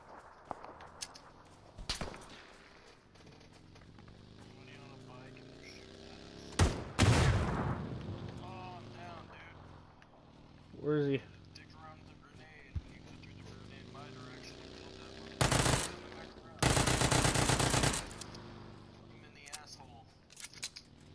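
Gunfire in the PUBG battle-royale video game: several loud, sharp bursts and a longer rattling volley that stand out among the game sounds, with players talking over the action between shots.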